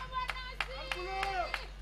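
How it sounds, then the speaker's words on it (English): Scattered claps ring out at a ceremony launching a clinical waste treatment centre, welcoming Gambian President Adama Barrow: about five separate, evenly spaced claps, fairly faint, over tonal voices and a steady low hum. "Please give him a round of applause"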